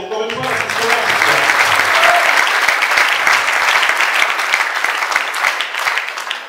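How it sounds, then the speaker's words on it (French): A room full of people applauds event partners at a company's 15th-anniversary celebration, with dense, sustained clapping that stays loud and even for the whole stretch. "Et on va les applaudir, les partenaires, encore une fois, parce qu'ils sont là."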